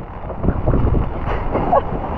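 Strong typhoon wind buffets the microphone during a fishing trip out in the open, loud gusty roaring and rumbling that swells and drops continuously, with no clear voices over it.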